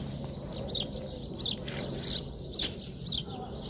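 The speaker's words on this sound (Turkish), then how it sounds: "Burada kuş sesi geliyor olabilir. Kuş sesi arkadaşlar." Birds chirping outdoors, short high calls repeating about every second over a steady background rumble.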